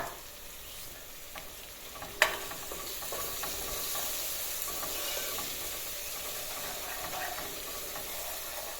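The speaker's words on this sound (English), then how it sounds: "now a bit of stirring" A curry-spiced mashed food mix (kamukimo, a Kenyan njahi dish) is stirred in a pot, giving a steady, faint scraping and sizzling texture with one sharp knock early on. No one speaks.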